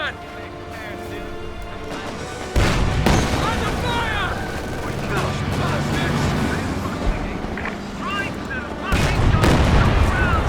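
MG-42 machine gun fire in the World War II strategy game Company of Heroes 2 breaks out in sharp, heavy bursts amid other battle noise, with a voice talking over much of the clip.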